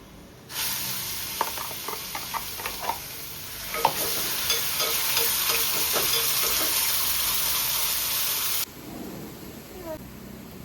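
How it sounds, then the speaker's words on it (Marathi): Garlic and turmeric frying in reused bhaji oil for a Maharashtrian fish curry tempering, a loud steady sizzle that starts abruptly, with stirring clinks and scrapes along the way, then cuts down to a quieter kitchen background near the end. "ह्याच्यात जाईल लसूण, हळद. फक्त फोडणीला मी लसूण आणि हळदच टाकते."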